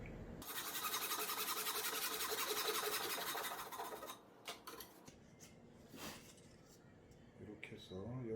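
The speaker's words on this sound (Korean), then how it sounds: "지금부터는 30도 방향 반대편의 방향 톱질을 해보도록 하겠습니다" A hand saw cuts a wooden lattice door strip at a 30-degree angle for a traditional Korean flower-lattice door, with close, quiet rasping strokes for about four seconds, followed by scattered light knocks and taps.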